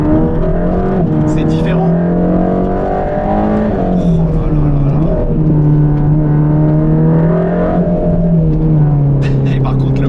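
Mercedes-AMG GT Black Series V8 engine, heard on a road test drive, loud and up close with a sustained growl that rises and falls as the revs change. Someone speaks in French over the engine.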